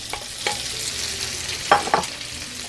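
Spam sizzles in hot vegetable oil in a large non-stick skillet over medium heat, a steady crackling fry with a few louder spits and stirring scrapes, close and clear with no voices.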